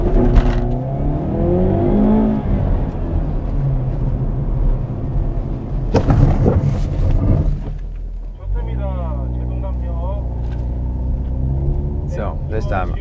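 Hyundai Veloster N with an 8-speed dual-clutch transmission pushed hard on a track, its engine rumbling and revving loudly under speech before a rising tone as it brakes and slows near the end.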